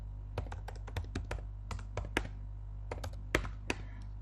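Keystrokes on a computer keyboard tapping in an irregular run of sharp clicks over a steady low hum, with short pauses between bursts and no talking.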